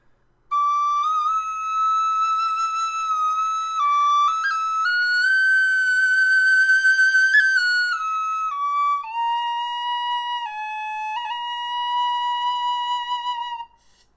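A high D tin whistle carries a slow, sustained tune, its clear, pure notes held long and shifting gently between pitches, close and steady with no voices over it.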